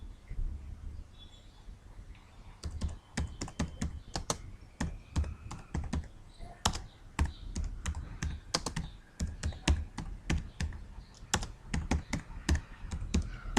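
Typing on a computer keyboard while filling in an HTML5 web form text area: a close, steady stream of crisp key clicks in irregular bursts, with brief pauses between runs of keystrokes.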